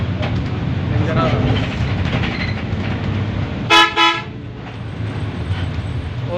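A vehicle horn sounds two short, loud toots on a winding mountain road, standing out above steady engine and road rumble with voices talking nearby.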